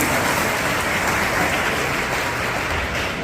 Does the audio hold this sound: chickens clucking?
no